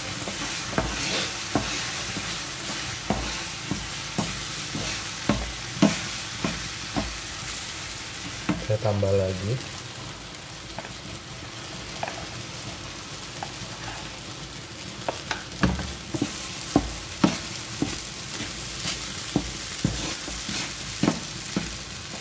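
Rapid scraping and clanking of a spatula stirring mung bean pastry filling in a wok, with a steady sizzle of frying beneath and a few brief spoken words.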